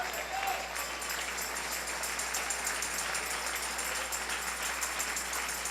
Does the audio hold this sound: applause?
yes